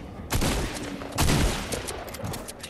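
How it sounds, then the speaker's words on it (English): Fortnite gunfire, two loud bursts of rapid shots with quieter pops trailing between them. "Getting shot at behind us."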